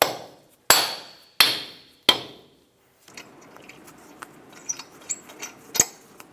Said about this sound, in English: Tap it with a soft face hammer.